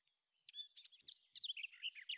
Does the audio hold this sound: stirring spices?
no